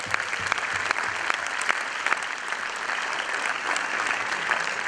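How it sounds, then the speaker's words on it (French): Sustained applause from a theatre audience for a young film editor at a screening of television films at the Capitole, dense steady clapping throughout. "je voudrais l'applaudir"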